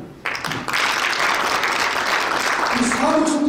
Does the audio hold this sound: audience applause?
yes